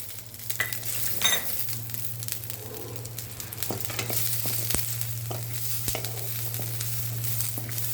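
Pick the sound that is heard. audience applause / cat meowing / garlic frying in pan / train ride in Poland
garlic frying in pan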